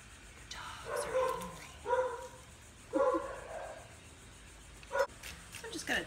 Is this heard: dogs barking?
yes